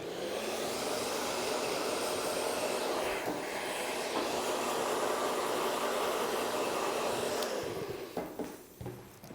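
A hair dryer blows steadily on a mono top hair topper for women, a loud continuous close whoosh that holds for about eight seconds before cutting off, with some handling clatter at the end.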